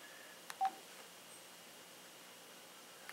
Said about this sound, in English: this is my home phone I'm dialing the number from